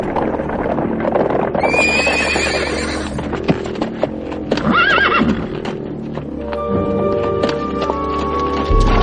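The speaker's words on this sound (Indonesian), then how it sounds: "Ada 3 orang pengendara kuda menuju kemari." Horses in a radio drama neigh in loud, high whinnies over steady clip-clop hoofbeats as three riders approach, the galloping rhythm continuing close and prominent for about nine seconds with no speech.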